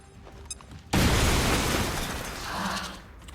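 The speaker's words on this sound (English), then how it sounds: "Grenade these two. Tossing frag." Frag grenade blast in the XCOM video game: a sudden loud boom breaks a quiet moment and then rumbles and decays slowly, with debris noise trailing off.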